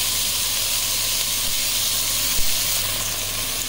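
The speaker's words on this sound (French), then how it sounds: "Alors j'ai mis bien fort pour saisir la viande." Beef strips searing over high heat in a pan for a Japanese-style stir-fry, giving a steady, close hiss with a low hum beneath and one brief knock midway; no talking.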